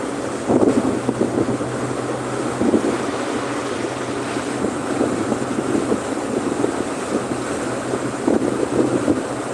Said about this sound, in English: Should be very much wind.